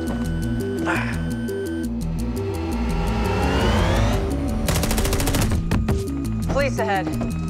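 Rapid machine-gun fire crackles through a loud, driving music score, with bursts of shots layered over engine and vehicle noise in a tense chase.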